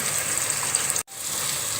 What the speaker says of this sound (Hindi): थोड़ा सा पानी ऐड कर दें ताकि आलू गल जाए